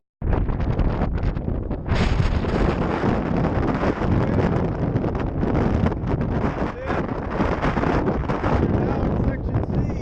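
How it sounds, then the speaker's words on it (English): Intense desert wind buffets the microphone on a hiking trail, a loud continuous roar that gusts and surges throughout, with a voice briefly audible beneath it. "But this wind is pretty intense."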